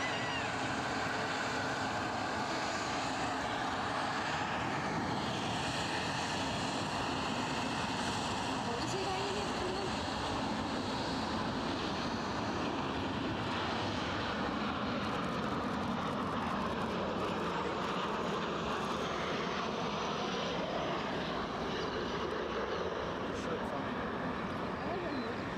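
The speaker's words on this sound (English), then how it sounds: "inbound from Brussels, we have a Ryanair in the last stage of arrival" A Ryanair airliner inbound from Brussels lands at Edinburgh Airport, its jet roar loud and broadband, filling the whole stretch with a steady, unbroken rush of engine noise.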